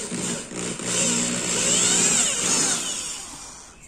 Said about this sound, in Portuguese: com meu redutor de profundidade da broca, é só furar onde tá o pontinho aqui para fazer a montagem